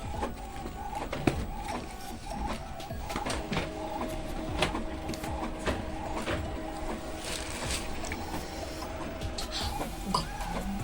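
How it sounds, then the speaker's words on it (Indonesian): An office printer runs a print job on invitation blanks, a steady mechanical whir with clicks and thumps of paper feeding repeating throughout, moderately close with no talking. "Oke, kita coba langsung print. Oke, kita tunggu proses cetaknya."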